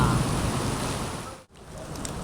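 Heavy rain pours in Bhiwandi with a dense, even roar that continues throughout, cutting out for an instant partway through before resuming just as strong.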